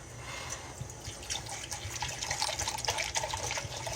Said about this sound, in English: We want 2 cups of water.